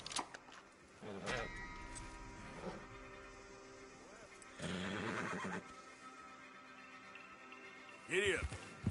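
A horse in the video game Red Dead gives a few loud, wavering neighs and whinnies separated by quieter stretches, with a voice briefly present.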